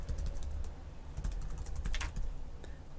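Rapid typing on a computer keyboard, a continuous run of light, close key clicks with irregular rhythm over a low background hum.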